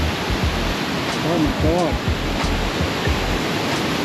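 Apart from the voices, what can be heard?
waterfall pouring water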